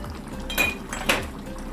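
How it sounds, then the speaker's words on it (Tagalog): Ginataang hipon, shrimp in coconut milk with squash and string beans, stirred in a pot: two wet clinks of a utensil against the pot over a soft liquid bubbling, close and fairly loud. "So ayan, haluin natin"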